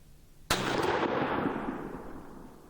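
A 20 gauge shotgun loaded with Verdict turkey shells fires one sharp, loud blast outdoors on a 50-yard range, followed by a long rolling echo that slowly fades.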